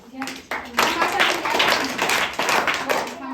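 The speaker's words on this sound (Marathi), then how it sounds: "ह्या सर्वांचे आपण टाळ्या वाजून स्वागत करूया" A group of people applauding at a birthday gathering, dense overlapping claps in sustained bursts with short breaks, close and lively, with some voices mixed in.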